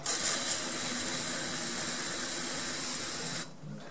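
Water sprays out through a bore pole into a sewer line in a loud, steady hiss for a few seconds, then cuts off abruptly, leaving a quieter background.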